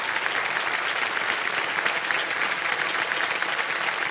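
A studio audience on the KBC quiz show applauds a contestant, thick continuous clapping that stays even and loud for the whole stretch, with no one speaking.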